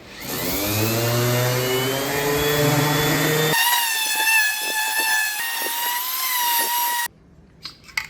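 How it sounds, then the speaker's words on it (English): A power sander on wood with 220-grit sandpaper whines steadily and loudly, changes pitch partway through, then cuts off, leaving a few faint knocks. "final sanding, 220 grit"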